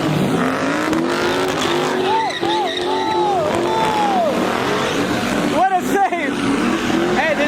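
A car burnout with squealing tires at a large Los Angeles summer street car meet: wavering tire screech and engine roar over dense crowd noise, with people talking and shouting throughout.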